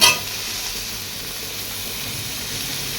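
Cauliflower with tomato, coriander leaves, cumin powder and chilli sautés in a pan, giving a steady close hissing sizzle after a brief clatter at the start, with no voice.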